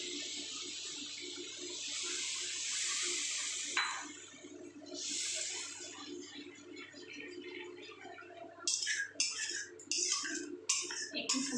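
Water poured into a pan of rohu fish curry masala with peas, a soft trickling splash for a few seconds, followed by faint clinks of a utensil against the pan; quiet overall, with no speech.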